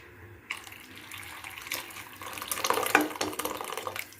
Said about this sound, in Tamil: கொள்ளு தண்ணியும் இதில் ஊற்றிக்கிறேன்